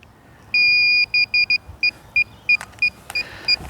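Electronic beeping from a drone and its controller powering on and connecting: one long tone, then a quick irregular series of short, fairly loud beeps over a faint background hiss. No talking.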